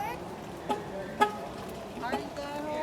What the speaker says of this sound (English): I'm going to honk my horn, guys.